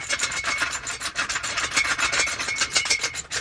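A hand tool is cranked to tighten bolts while assembling fitness equipment, making a rapid, rhythmic rasping ratchet sound up close, with no voices.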